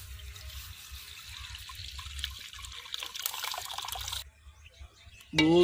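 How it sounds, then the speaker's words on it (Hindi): Milk pours into a pot with a soft, steady liquid trickle, the first step in making rice kheer, and ends with a brief clatter. "सबसे पहले इसके अंदर दूध डालेंगे।"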